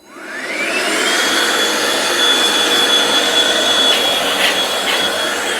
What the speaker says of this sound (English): Let me grab my vacuum and show you